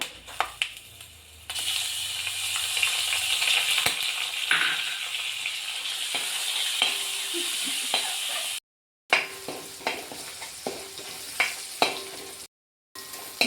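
Crushed ginger and garlic frying with golden-browned coconut pieces in hot oil for a prawn roast, a steady close sizzle with scraping stirs and a couple of brief pauses.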